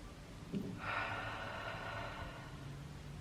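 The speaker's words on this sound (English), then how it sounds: "Take a deep breath in." A slow, deep inhalation drawn in during a guided meditation, a soft airy breath that swells after a brief sniff and holds steady for a couple of seconds in a quiet room.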